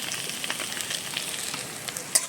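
Garlic and ginger fry in hot oil in a pan on a gas stove, a steady, close crackling sizzle with small pops and a sharp tick near the end, no talking.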